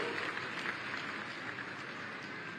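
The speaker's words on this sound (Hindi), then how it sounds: "एक बार जोरदार तालियां आप सबकी चाहोगी" An audience at a development-projects event attended by Chief Minister Yogi Adityanath applauds a cheque presentation, a dense, steady wash of clapping from many hands with no break.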